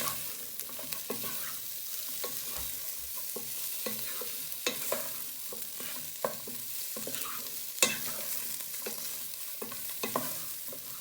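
Garlic, onions, chorizo and bacon fry in a pan for special fried rice, giving a steady close sizzle broken by scraping stirs and utensil knocks against the pan, with no talking.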